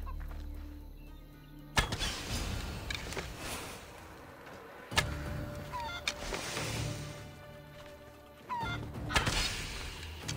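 Chickens clucking in the video game Assassin's Creed Odyssey, short fowl calls scattered over a steady game ambience with a few sharp thuds and bursts.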